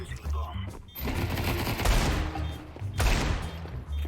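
Suppressed MP5 SD submachine gun fire in the video game CS2, a rapid fusillade of muffled shots in bursts while running, loud and close, with game ambience underneath.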